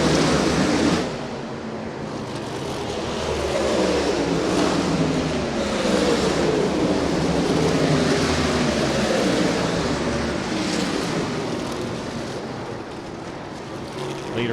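USAC Silver Crown race cars roar around the Du Quoin State Fairgrounds dirt mile, engine drones rising and falling steadily as cars pass at a distance, with a continuous blended motor wash throughout.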